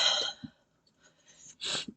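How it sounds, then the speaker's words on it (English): A couple of short, breathy coughs close up, separated by brief silence. "every so often I just get a tickle in my throat and I have to cough"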